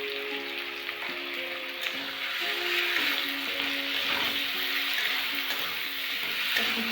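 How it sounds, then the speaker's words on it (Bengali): Fish curry masala with chilli powder, green chilli paste and salt sautés in a pan, a continuous close sizzle with stirring over a steady low hum, with no speech. "কিছুক্ষণ কষিয়ে নেব।"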